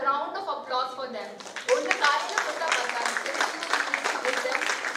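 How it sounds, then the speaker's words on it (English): Applause from an audience at an International Women's Day celebration breaks out after about a second and a half of speech, steady clapping continuing to the end. "A round of applause for them."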